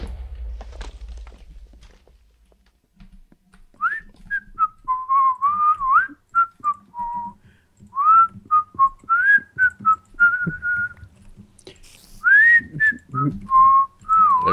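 A person whistles a wavering melody of short, bright notes with brief pauses between phrases, close and clear, with faint footstep-like thumps underneath and quiet stretches at the start.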